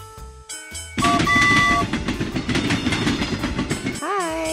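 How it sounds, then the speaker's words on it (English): A small toy train rumbles along with rapid clattering, a brief whistle-like tone sounding partway through, followed by a rising and falling wail at the end. "tiny train."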